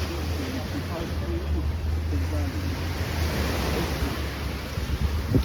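Steady sea surf rolls in a continuous wash along a rainy Turkish holiday coast, wind buffeting the microphone throughout, with faint voices underneath.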